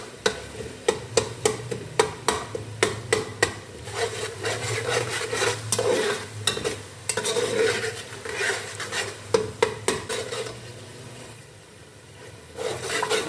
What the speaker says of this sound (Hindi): हम इसको हल्का सा भूनेंगे तो ये बिल्कुल मेल्ट हो जाएंगे